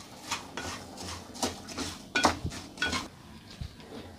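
Salted peanuts being stirred as they roast in a pan give a series of repeated scraping, clinking strokes of a utensil against metal, fairly close and steady with no one talking.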